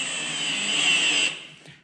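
Milwaukee M18 FUEL FPD-502X cordless impact drill-driver on a low clutch setting, driving a screw fresh into material with no pilot hole: a steady, loud motor whine held for over a second, then winding down and stopping.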